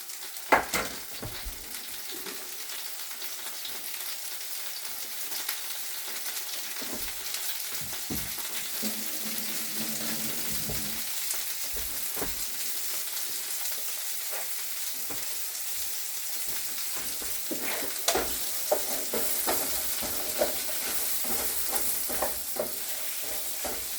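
Onions sizzling in a pan for fajitas: a continuous, fairly loud hiss of frying runs throughout, with scattered scrapes and taps of stirring that grow busier toward the end.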